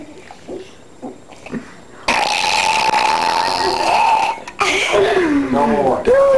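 A four-year-old boy lets out a long, loud burp that swells and rumbles for a couple of seconds, then a second gurgling burp follows, after some quiet talk from nearby kids.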